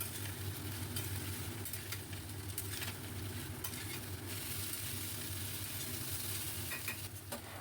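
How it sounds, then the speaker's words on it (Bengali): Potatoes and boiled kabuli chickpeas fry in a pan, a constant dense sizzle with faint stirring scrapes and a low steady hum beneath. "এবার আলু আর কাবুলি চানা বেশ আবারও 3 থেকে 4 মিনিটের মতো খুব ভালো করে ভাজবো"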